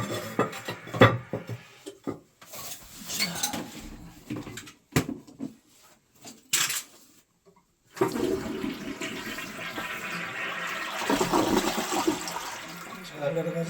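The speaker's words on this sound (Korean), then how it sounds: "자, 여기서 이제 물 내리고" A newly installed porcelain toilet flushes after a rough burst of clattering, handling noises and some talk, then a loud, steady rushing of water that swells toward the end.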